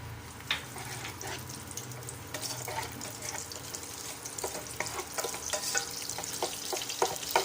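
Shallots frying in garlic oil in a pan on the stove, a steady close sizzle with scattered crackles and spatula scrapes throughout, no voices.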